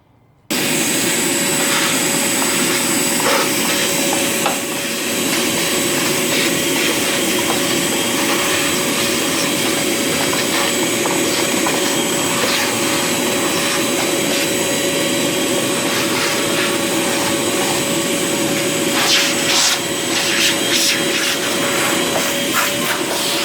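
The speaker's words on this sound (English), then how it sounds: "vacuum up all this sand and dirt" Vacuum cleaner sucking sand and dirt from the engine bay of a 2008–2012 Chevrolet Malibu: a loud, continuous roaring whoosh that starts abruptly and holds steady throughout, with faint rattles of debris.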